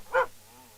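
A dog gives a single short, fairly loud bark from behind a door in a comedy film scene, followed by quiet room tone.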